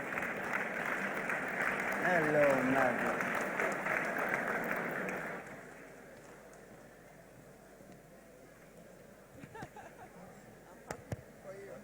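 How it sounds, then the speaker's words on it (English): Audience applause at an anniversary awards ceremony as a Spirit Award winner walks on stage: a loud burst of clapping for about five seconds that drops away to quiet room noise, with a brief spoken greeting and a few scattered sounds after. "Round of applause as he makes his way on stage"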